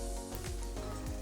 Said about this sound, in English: Nice little sizzle, just for a few seconds